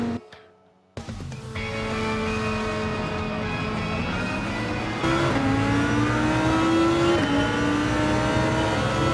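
A mid-engine, rear-wheel-drive GT3 race car in Gran Turismo 7 roars to life after a short silence, then holds a loud, continuous engine drone that climbs in pitch through rising revs and gear changes.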